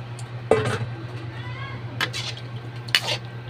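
Pork adobo stirred in its sauce in a pan, three distinct spoon scrapes and knocks against the pan over a low hum, with someone talking between them.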